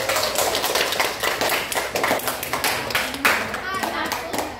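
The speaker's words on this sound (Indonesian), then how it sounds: "Lihat tepuk tangan untuk Samsul dan Kamel." Students in a classroom clap for two classmates, a crisp close burst of rhythmic hand claps with a few children's voices mixed in.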